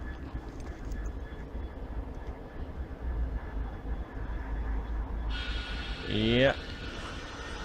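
A diesel passenger train pulls away from Stowmarket station heading toward Felixstowe, a steady low rumble throughout with a rising engine note and a brief louder surge near the end, while a person briefly talks nearby.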